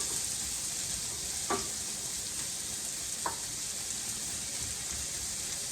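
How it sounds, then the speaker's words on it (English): Ground meat from Trader Joe's sautéing in a full skillet, a constant dense sizzle with two brief spatula scrapes against the pan. "I brown it. I saute it for a few minutes."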